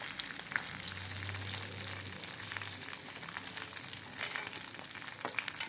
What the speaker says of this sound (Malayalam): നല്ല ഫ്രൈ ആവണ്ട, കുറച്ച് ഫ്രൈ ആയാൽ മതി.